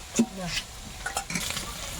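Cauliflower and potatoes fry in a pan while cooking in bulk for a large group, a soft sizzle broken by a few scraping stirs and light utensil clinks, with a voice briefly heard.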